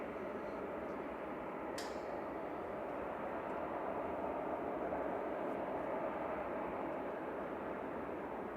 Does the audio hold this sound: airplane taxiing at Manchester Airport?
yes